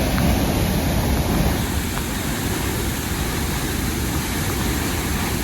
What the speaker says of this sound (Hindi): बाकी जो अभी फॉल है वो अपने एकदम उफान पे है।